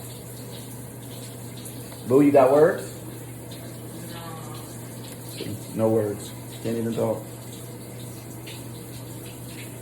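Shower water runs in a steady, low hiss throughout, with a constant hum underneath, while people talk briefly over it.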